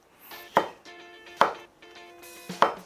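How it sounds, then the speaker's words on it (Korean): A knife chops a quarter of a zucchini on a cutting board, three sharp, close knocks spaced about a second apart over a quiet background. "애호박 4분의 1개 먼저 잘라줄게요"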